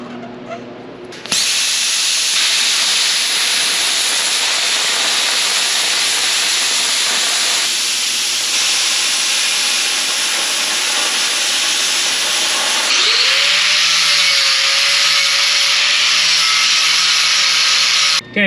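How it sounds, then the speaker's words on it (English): A loud, continuous hissing cut through a piece of 3/8 inch steel plate for a 1930 Dodge pickup brake and clutch pedal assembly, running steadily close by with a brief change in tone near the end. "now we're gonna cut a piece of 3/8 plate in this shape and weld it into place"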